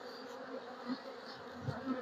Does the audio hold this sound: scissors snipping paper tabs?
no